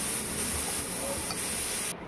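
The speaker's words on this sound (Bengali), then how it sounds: "আর কুকারে আলু সেদ্ধ বসেছি, সেটি হচ্ছে।" A pressure cooker boiling potatoes lets out a steady, sharp steam hiss that cuts off abruptly just before the end.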